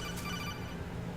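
Phone ringing in Metal Gear Solid, a short steady electronic ringtone over a low background hum.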